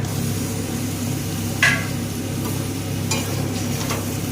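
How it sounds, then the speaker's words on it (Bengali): Chopped onion and tomato hit spices frying in a pan, producing a steady, close sizzle with a few brief scraping stirs and bursts of spattering. "মশলা কষানো হয়ে গিয়েছে, এই অবস্থায় কেটে রাখা পেঁয়াজ আর টমেটো ডুমো ডুমো করে দিয়ে দেব"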